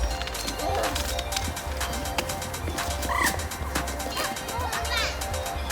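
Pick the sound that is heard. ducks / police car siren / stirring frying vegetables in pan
ducks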